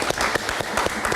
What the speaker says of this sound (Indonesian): Tepuk tangan sekali lagi untuk Nirwono Yoga.